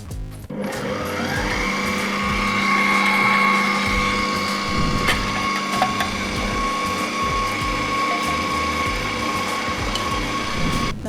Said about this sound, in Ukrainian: Для цього я беру насадку тертушка, вставляю сюди.